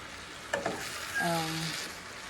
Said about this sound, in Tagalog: So slowly lang natin ihahalo guys kasi